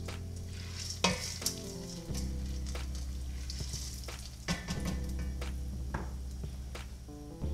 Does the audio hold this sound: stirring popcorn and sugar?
yes